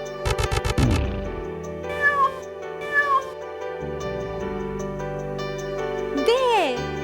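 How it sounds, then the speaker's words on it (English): A cartoon cat meows clearly twice in a children's animal story, each mew rising and falling, with a final drawn-out meow at the end over light background music and jingles. "Say meow. Cat, say meow."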